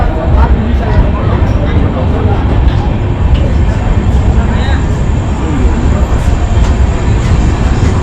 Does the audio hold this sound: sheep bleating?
no